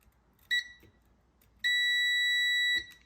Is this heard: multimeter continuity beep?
yes